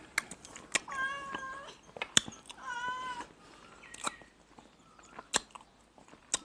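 A cat gives several drawn-out, wavering meows up close, mixed with sharp clicking crunches of eating and chewing at an irregular pace in a quiet room.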